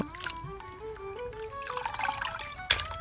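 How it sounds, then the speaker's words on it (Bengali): Water splashing and dribbling as freshly cut chicken is rinsed by hand, with a brief louder splash near the end. "এখন পানি দিয়ে ভালোভাবে ধুয়ে নেব"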